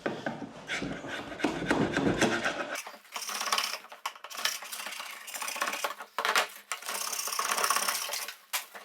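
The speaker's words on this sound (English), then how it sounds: "we'll get this grip fill off of here" Dried grip fill adhesive is scraped and peeled off a skirting board, a close scratchy rubbing with irregular crackling bursts and no talk.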